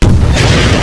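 A single loud, deep boom of a guided missile explosion in the Garry's Mod video game, short and overwhelming with a rumbling low end.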